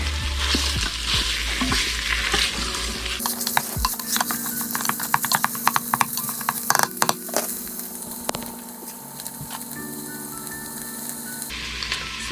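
Food sizzles and crackles in an Instant Pot while a utensil breaks it up, with sharp scraping taps and clacks over a steady frying hiss, close by and fairly loud.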